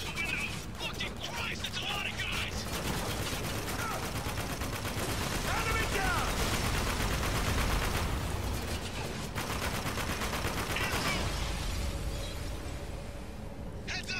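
Sustained turret machine-gun fire in the desert shooter Spec Ops: The Line, dense rattling bursts and booming impacts rolling continuously through the stretch, with a voice talking over the gunfire.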